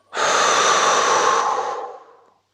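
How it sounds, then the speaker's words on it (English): A single deep, steady exhale during a yoga breathing exercise, close and airy, holding for about two seconds before fading out, with no talking. "Breathing out."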